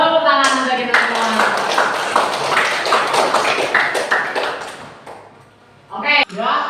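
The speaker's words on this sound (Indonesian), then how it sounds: "Tepuk tangan untuk kita semua." A class of primary school pupils claps hands together in a long burst of dense applause, fading out, with a short renewed flurry near the end and children's voices around it.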